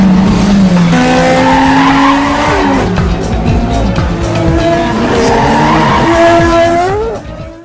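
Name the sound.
race car driving on a race track, tires skidding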